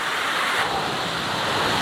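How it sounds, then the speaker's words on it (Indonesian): Wind rushing steadily through tall trees in a rural village area that feels like dense forest, a broad continuous roar with no pauses, close and fairly loud. "Ada angin."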